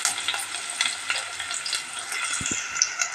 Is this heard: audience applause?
no